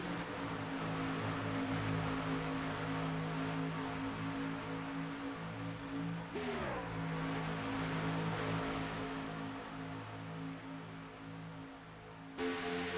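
Race cars run two by two at Talladega in a racing video game, a faint continuous engine drone with a pitch sweep as the pack shifts, steady and distant with no voices.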